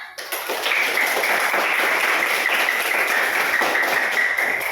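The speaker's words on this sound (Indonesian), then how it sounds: "berikan tepuk tangan dulu untuk kelompok 1 karena sudah maju pertama kali" Sustained classroom applause for the first student group, many hands clapping densely and evenly for several seconds at close range.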